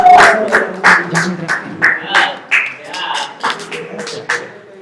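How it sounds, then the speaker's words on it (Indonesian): A classroom group gives a short round of applause. It comes as a dozen or so loose, uneven claps that fade in and out over about five seconds, with a voice faintly underneath. "Kita beri aplaus dulu."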